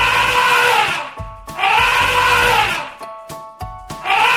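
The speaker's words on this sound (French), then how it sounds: "il s'agit de l'éléphant" An elephant trumpets in loud, brassy, wavering blasts, two long calls followed by shorter broken ones. The calls are close and heard alone, without talk.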